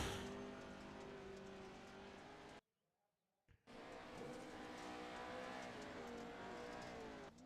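Pro 2 dirt oval race trucks circle a dirt track on practice laps, their engines roaring loudly and continuously with revving swells. The noise cuts out briefly midway, then resumes at full volume.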